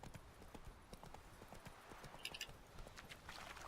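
Roach, a horse in The Witcher 3, gallops with quick, rhythmic hoofbeats at a steady pace, fairly close, with a few brief bright metallic clinks partway through.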